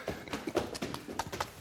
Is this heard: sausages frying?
no